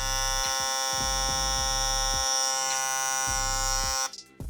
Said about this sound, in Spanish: Escuchen el clipper.